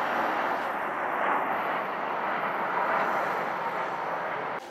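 An Aircalin Airbus A330-900 airliner takes off from Narita, roaring steadily at high power, a broad continuous rumble and hiss that holds throughout, then drops slightly at the end.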